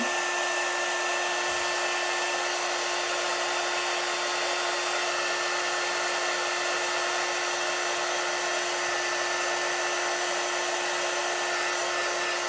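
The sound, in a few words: dryer drying chalk paste on a Chalk Couture project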